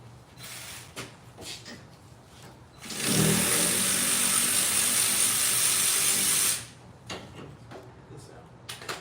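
Ratchet wrench at work on the oil pan of a 2011 BMW E90 328i: a loud, steady broadband whirring burst lasting a few seconds, bracketed by quieter clicks and handling noises.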